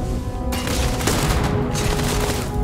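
Shotgun and other gunfire in the sci-fi shooter game Starfield, a dense, loud barrage of blasts and booms filling the whole clip with no talking.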